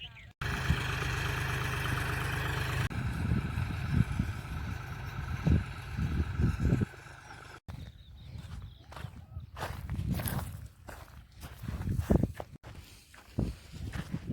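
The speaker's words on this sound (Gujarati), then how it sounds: "ટ્રેક્ટર આવી ગયું છે વાવવા" A tractor arriving in a farm field to sow cumin with a rotavator: a steady droning engine hum for the first few seconds, then uneven knocks and clattering bursts follow.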